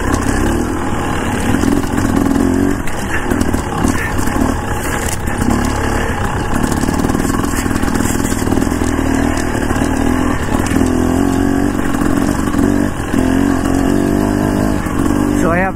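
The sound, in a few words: motorcycle riding on worn knobby tyres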